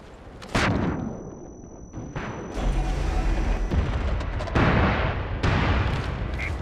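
Artillery fire and booming blasts from a fire mission in the military shooter MAG: heavy, loud impacts strike several times and roll into a sustained roaring rumble, with faint radio-style voices now and then.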